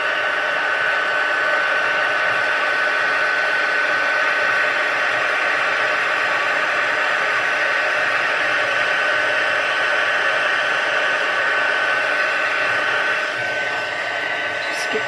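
A heat tool blows hot air onto a paper craft bauble with a loud, constant whooshing roar that fills the whole stretch without a break.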